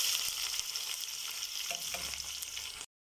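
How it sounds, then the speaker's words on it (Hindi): Onion sizzles in hot oil in a pan for chicken macaroni, a soft steady frying hiss with a few light stirring knocks before stopping abruptly. "ऑयल डाल दिया तो अभी ये थोड़ा सा गर्म होता है, तो फिर मैं इसके अंदर प्याज डालती हूँ"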